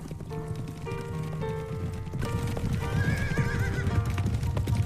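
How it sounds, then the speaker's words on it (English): A herd of horses gallops across open plains by marshy lakes in Dagestan, a dense, dull rumble of many hooves growing louder and nearer, with horses neighing and whinnying over the drumming. "the powerful dull rhythm of hooves. It's a herd of horses irrepressibly rushing across the endless plains."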